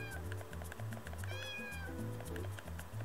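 Cat meowing in the video game Heartbeat, a few high, rising meows heard clearly over a steady, rhythmic game music loop.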